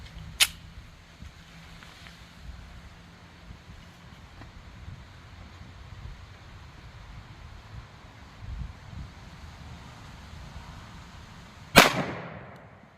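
A 10mm Colt Delta Elite pistol fires DoubleTap 190gr Equalizer ammunition: two sharp, loud shots about eleven seconds apart, separated by low, quiet background noise.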